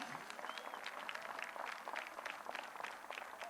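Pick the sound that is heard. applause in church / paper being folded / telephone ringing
applause in church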